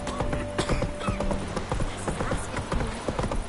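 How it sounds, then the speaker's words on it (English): In a video game, a horse's hooves clip-clop in a quick, steady rhythm throughout, close and prominent over a faint background hum. "Whoa there, Roach. Fuck. Come on, Roach."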